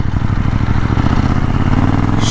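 A KTM Duke 790 twin-cylinder engine runs in a short loud burst, a close, pulsing mid-range exhaust rumble with a steady throb and no voices.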